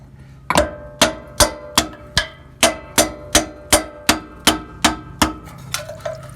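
A screwdriver hammered against a freeze plug on a Ford 302 5.0 engine in a Bronco, about fourteen sharp metallic strikes in a steady rhythm, loud and close, with a faint trickle of liquid near the end.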